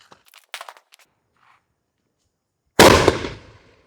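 A Diwali firecracker shot goes off in one sharp, loud blast that decays into a crackling tail, following a few faint ticks and rustles in near silence.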